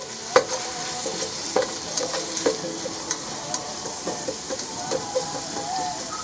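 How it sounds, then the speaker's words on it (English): Celery sautés in a pan for razor clam chowder, a continuous close sizzle with regular clinks and scrapes of a spoon stirring, no one talking. "We're going to add our celery. And we're going to saute this here."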